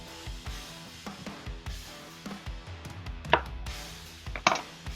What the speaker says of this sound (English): I'm going to chop it into small bite-sized pieces